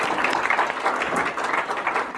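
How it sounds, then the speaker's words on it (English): Guests at a wedding reception applaud the bride's and groom's families, a moderate wash of many hands clapping that holds steady for about two seconds without talk. "Let's give them a big round of applause."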